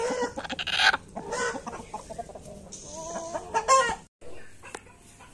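Chickens cluck and squawk in short bursts, fairly close, with busy farmyard noise around them and a brief drop to near silence near the end.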